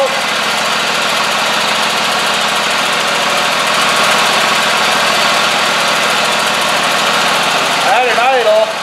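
A Scag Tiger Cat riding mower engine idles steadily and loud, a constant drone with a brief clatter near the end.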